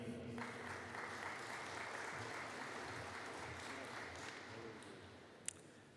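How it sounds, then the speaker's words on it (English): A graduation ceremony crowd gives a steady round of applause for Software Development graduates. The dense clapping holds evenly for the whole stretch, with a single sharp knock near the end. "Could I please have a collective round of applause for the graduates"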